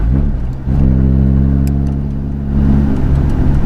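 An Audi Quattro engine idles steadily and loudly up close, a deep, even mechanical hum that swells slightly midway through.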